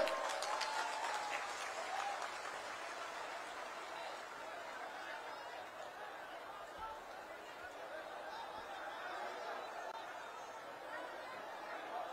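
Applause from a large crowd at a prime ministerial public rally in Ambassa rolls on steadily for several seconds, distant and diffuse, with chatter and a few laughs mixed in.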